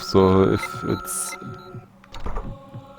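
A heartbeat from the horror video game Dementium: The Ward thumps softly under electronic game tones and someone talking over the gameplay.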